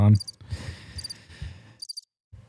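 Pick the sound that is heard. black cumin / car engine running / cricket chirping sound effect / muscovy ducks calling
cricket chirping sound effect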